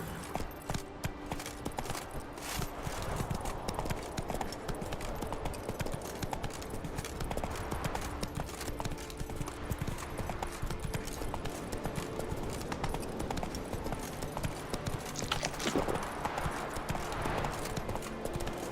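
Roach, Geralt's horse in The Witcher 3, trots along with a continuous rhythmic clip-clop of hooves, steady and moderately close over faint ambient game sound, with no talk.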